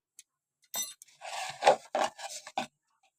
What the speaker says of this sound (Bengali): মাছের নুন দিলাম, একটু হলুদ গুঁড়ো দিয়ে মাছটাকে ভালো করে মাখিয়ে নেবে।